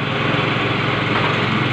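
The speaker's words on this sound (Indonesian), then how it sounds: "Motornya sekarang hidup ya." A carbureted Honda Vario motorbike with dim lights, abnormal battery charging and rough idling runs steadily with its battery's positive terminal disconnected, a loud, continuous buzzing engine drone heard close up with no talking.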